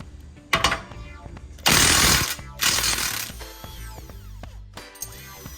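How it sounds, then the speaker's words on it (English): Ratchet wrench with an 18mm socket loosening the pinch bolt on a car's lower control arm, on a 3.6L VR6 MK6 GTI; repeated close clicking and clattering with a few louder bursts of metallic noise. "we are going to take an 18mm and remove the pinch bolt on this lower control arm"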